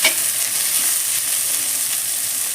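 Ivy gourd and fresh grated coconut fry steadily in hot oil, a dense continuous sizzle with faint stirring scrapes, close and even throughout with no voices.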